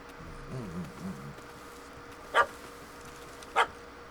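A puppy in The Witcher 3 barks at a cat up a tree, with a few soft whimpering yips followed by two sharp, separated barks at moderate distance.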